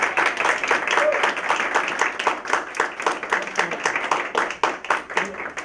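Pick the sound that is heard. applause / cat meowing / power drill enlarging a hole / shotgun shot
applause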